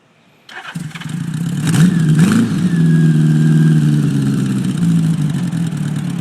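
A Honda GL1000 motorcycle cold-starts on a 40-degree morning with cold header pipes, the engine catching after a brief crank and revving up before settling into a loud, steady, close idle.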